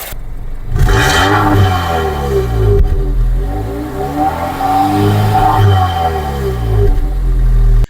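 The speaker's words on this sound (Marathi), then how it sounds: "इंजिनची जी क्लटरिंग किंवा आवाज आहे ती तुम्ही ऐकू शकता" An MG Astor engine running close by at idle, a loud steady mechanical rumble that rises and falls slightly in pitch, with light clattering and no talking.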